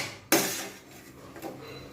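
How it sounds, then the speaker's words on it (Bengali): A frying pan is cleaned, starting with a sharp metallic clank followed by scraping and a second knock, close and fairly loud with no talk. "এটা ফ্রাইং প্যানটাকে আবার ফের আমি পরিষ্কার করে নেব"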